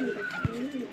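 A pigeon sitting on its nest with two chicks gives a single low, soft coo near the middle, under a faint background hum and a steady tonal drone.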